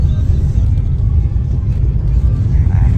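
A cheap taxi's engine rumbles low and steady inside the cabin on a road through a remote nomadic region, a continuous close drone without pauses.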